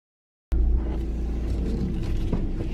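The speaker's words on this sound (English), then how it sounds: "I am driving right now" Steady low rumble of a car cabin while driving, a continuous road and engine drone that starts abruptly and holds evenly, with no voices.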